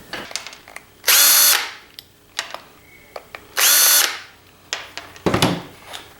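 A power drill removes small screws from a heart monitor in two loud, whirring bursts of about half a second each, with clicks and handling clatter between them and a final short whir.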